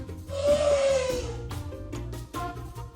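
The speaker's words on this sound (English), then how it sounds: "It's an elephant." A trumpeting elephant call rises over a soft backdrop of light music: one drawn-out, bright, brassy blare lasting about a second, moderately loud, followed by quieter rhythmic accompaniment, with no talking.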